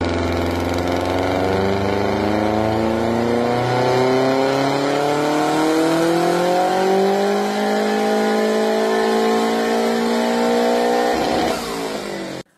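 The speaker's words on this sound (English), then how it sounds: "Now comes the 4 cylinder boxer engine. So it is mainly used in cars, and it sounds like." A four-cylinder boxer engine drones loudly and continuously, its throbbing exhaust note rising steadily in pitch as it revs, then cutting off abruptly at the end.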